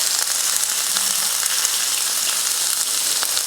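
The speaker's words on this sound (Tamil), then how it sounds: "கடாயில் கொஞ்சம் எண்ணெய் காஞ்சதுமே கொஞ்சம் கடுகு பொரிஞ்சதுமே கொஞ்சம் பெரிய வெங்காயம்," Mustard seeds and big onions fry in hot oil in a kadai for a carrot-and-beans poriyal tempering, giving a dense, steady hiss with scattered small pops and crackles throughout, no voices.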